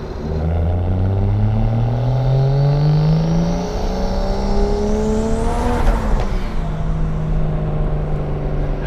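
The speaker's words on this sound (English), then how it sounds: "my blow-off valve just doesn't work and it kind of has a little bit of a turbo flutter" Single-turbo BMW 335i under hard acceleration, the engine note climbing steadily through a gear before a shift. A brief turbo flutter follows near the shift, loud and close, with no talking.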